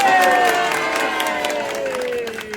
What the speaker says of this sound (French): Applaudissez pour Néméa